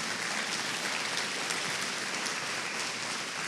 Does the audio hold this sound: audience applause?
yes